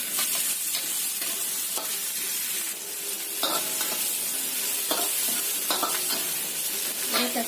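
Garlic, shallots and tomato sauté in a pan under a constant hiss of frying, with repeated clattering stirs at irregular intervals and no one speaking over them.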